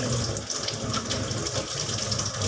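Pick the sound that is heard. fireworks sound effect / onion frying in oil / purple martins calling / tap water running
tap water running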